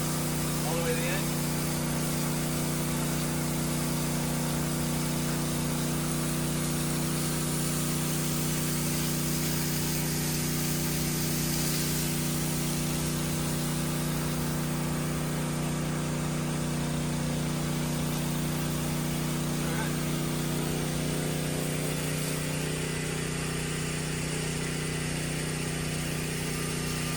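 A fire department pump engine runs steadily near a swimming pool, its constant mechanical drone holding level and loud for the whole stretch with a few faint background sounds.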